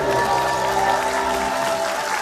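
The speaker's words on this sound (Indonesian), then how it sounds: "Tepuk tangan untuk Akbar ya." A studio audience at an Indonesian comedy show applauds a performer, loud sustained clapping with some crowd noise and a faint tonal background running the whole way.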